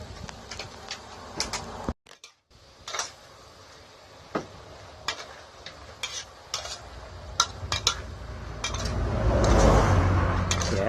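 Rice noodles stir-fried with pork in a pan give off a sizzle broken by repeated scraping and clicking of a utensil. A brief near-silence comes early, and a louder rushing sizzle builds toward the end.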